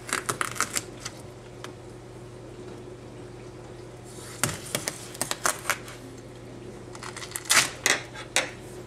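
A garden-grown melon is sliced open with a knife, giving scattered crisp cracks and clustered tearing snaps close by, busiest toward the end, with no talking.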